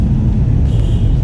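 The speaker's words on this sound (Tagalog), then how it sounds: "guys ayun yung mga sasakyan ng mga nanggaling sa tikling oh." Cars pass along a road at night in the town centre of Antipolo, giving a steady, fairly loud low rumble of traffic with no talking.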